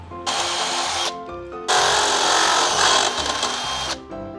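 A power drill bores holes in a UPVC pipe stand for a solar light, two loud, close whirring bursts, the second longer and steadier, with a short break between and no talking.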